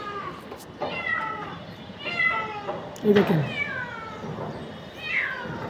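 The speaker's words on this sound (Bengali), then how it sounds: "এই দেখেন বিড়ালটা।" A cat trapped on the seventh floor of a police building meows repeatedly, a series of drawn-out cries at moderate distance, with a person speaking briefly in between.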